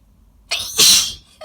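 A single sharp human sneeze, close and loud: a brief breathy intake followed by an explosive burst, then silence.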